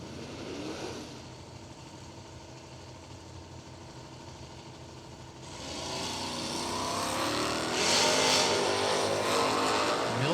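A Nova and a 1985 Ford Mustang launch off the line in a drag race, engines building from a low rumble to a loud, swelling roar that stays strong to the end.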